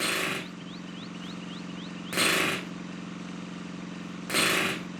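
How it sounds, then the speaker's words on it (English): In the video game Broken Sword 3, a compressor powering a pneumatic drill runs as a steady low mechanical hum, broken by two loud hissing bursts at regular intervals. "It was the compressor that powered the pneumatic drill."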